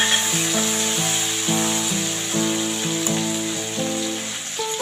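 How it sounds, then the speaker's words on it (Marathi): Green chili and crushed garlic sizzle in hot oil while being sautéed in a home kitchen. A steady frying hiss runs throughout under loud background music. "मग नंतर हिरवी मिरची आणि लसूण ठेचलेली घालायची, चांगली परतवून घ्यायची"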